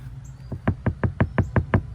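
Seven evenly spaced dull thuds of knuckles knocking on a Ford Ranger Raptor door panel after sound deadener install, in a quick steady rhythm.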